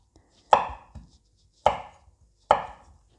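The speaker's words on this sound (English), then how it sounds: "And then with a sharp knife, you can just split it in two." A knife cuts through blanched almonds on a board with three crisp, evenly spaced chops, each followed by a faint rebound tap. It is close and clear, with no talking.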